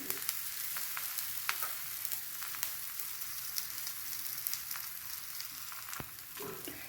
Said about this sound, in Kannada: ಸ್ವಲ್ಪ ಮೀಡಿಯಮ್ ಫ್ಲೇಮಲ್ಲಿಟ್ಟು ಬೇಯಿಸ್ಕೊಳ್ಳಿ